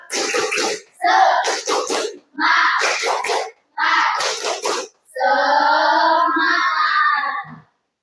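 Schoolchildren in a classroom perform a tepuk semangat clapping chant, with several loud bursts of rhythmic group clapping and shouting followed by a longer sustained chanted ending.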